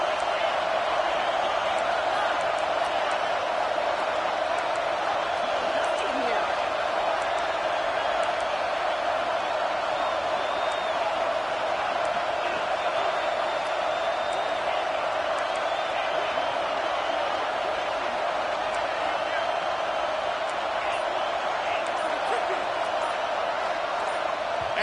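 A stadium crowd roars steadily at a college football game in the NCAA 26 video game, a dense, unbroken wall of cheering and noise that holds at the same loud level throughout.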